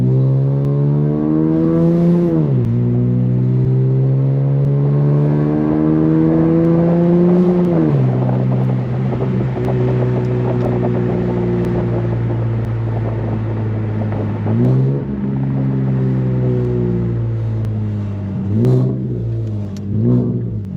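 An Infiniti Q50 with an ISR exhaust revs repeatedly, its deep exhaust note rising and falling through several throttle blips, loud and close with no talking.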